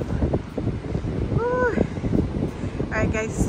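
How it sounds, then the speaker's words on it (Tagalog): Strong wind blows across the microphone at a Florida beach, a steady loud rumbling gust throughout, with brief voice sounds over it. "grabe yung breeze. Sobrang yung hangin."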